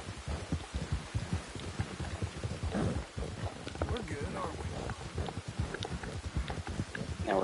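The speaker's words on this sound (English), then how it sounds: "It's beautiful, even with this pouring rain." Pouring rain in Red Dead Redemption 2, a steady patter and hiss of heavy rainfall mixed with rhythmic clip-clop of horse hooves, continuous under someone talking.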